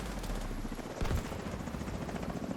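A helicopter in an online shooter game thrums steadily through the whole stretch, with a short louder burst near the middle that may be gunfire, all at a fairly even volume with no talk.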